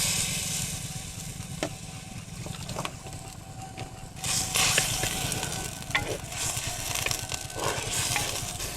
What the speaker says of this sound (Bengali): এখন আমি একটু পরিমাণ মতো হালকা করে জল দিচ্ছি